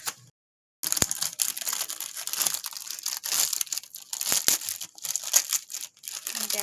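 Wrapping on a Christmas cake being opened, with close crinkling and tearing of plastic or paper that runs almost continuously for several seconds after a brief silence, with no talking.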